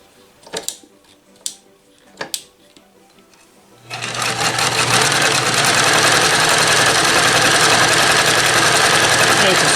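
A vintage Dressmaker sewing machine set to straight stitch starts up after a few faint clicks and then runs steadily and loudly, with a continuous whirring motor hum and rapid needle chatter.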